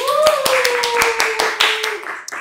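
A small group claps by hand, about ten sharp, distinct claps in a quick, slightly uneven rhythm while a voice carries on underneath.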